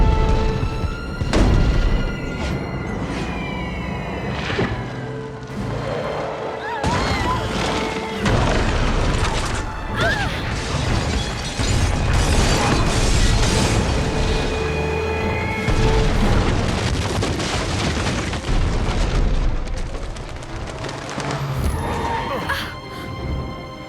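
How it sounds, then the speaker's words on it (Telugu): Heavy bomb booms and crashing blasts from an air strike roll out amid chaotic rumbling and debris-like clatter, loud and sustained, with voices shouting underneath. "నువ్వు కిందకి దిగిపో, ఇది పేలిపోతుంది."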